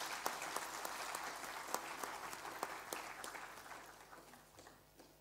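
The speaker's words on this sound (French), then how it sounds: "Applaudissons encore pour le professeur." An audience applauds a professor at a scientific lecture forum on African power, a steady wash of clapping that slowly fades out over several seconds.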